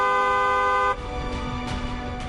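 Car horn honking: a loud, sustained multi-tone blare holds for about a second and then cuts off, leaving traffic-like rumble with faint higher blips behind it.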